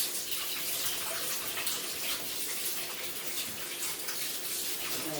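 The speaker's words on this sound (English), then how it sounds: "But of course I'm going to rinse them first." Tap water runs steadily as tomatoes are rinsed under the faucet in a home kitchen, a constant close splashing hiss that holds at an even level throughout with no talk.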